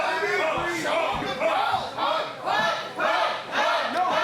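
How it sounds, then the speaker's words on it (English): A wrestling-show crowd cheers and yells in loud, rolling waves, swelling and dipping every second or so, with shouting voices mixed into the roar. "our audience is cheering for 2 members of the Heartless Kings"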